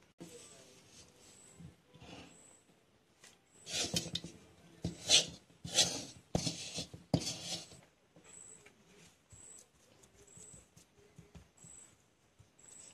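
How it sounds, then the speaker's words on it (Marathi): A sweet Amruthfal mithai mixture is spread and pressed with a spoon onto a ghee-greased plate, giving soft scraping and rubbing bursts in the middle of the clip, with quieter handling noise before and after. "आता हे मिश्रण या ताटाला पसरवून घेऊया."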